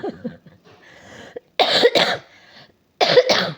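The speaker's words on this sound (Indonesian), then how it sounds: "batuk" After a faint murmur of voice, a person lets out two harsh bursts of coughing, each a quick cluster of close, loud hacks with a short quiet gap between them.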